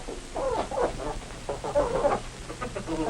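Soft, irregular clucking from several hens, a series of short murmuring calls close by with a low background hum.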